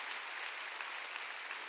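Church congregation applauding during a Sunday worship service at Jesus Central Church, a steady, dense wash of many hands clapping at once, fairly quiet and distant, with no talking over it.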